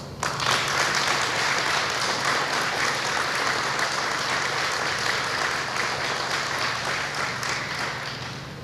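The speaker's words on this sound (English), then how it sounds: "I would like to just take a moment and have a round of applause for their efforts" A crowd at a Woodgrain Millwork factory ribbon-cutting ceremony gives a dense, loud, sustained round of applause that carries at an even level throughout and tapers slightly at the very end.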